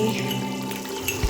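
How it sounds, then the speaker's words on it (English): Water pours into a cooking pot while jollof rice is being made with tomatoes, a steady splashing trickle with a soft pot clunk near the end, close by and without talk. "Add in more water to get everything out."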